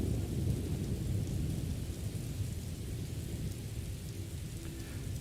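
Thunder and rain in a Morrowind lightning storm: a continuous low rumbling roar under dense, hissing rainfall, steady and fairly loud throughout, with no voices.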